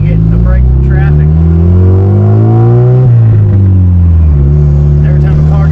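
A lowered car with a straight-pipe exhaust drives through a tunnel and accelerates loudly and close by with a rising engine drone. Traffic noise fills the background and someone talks over it.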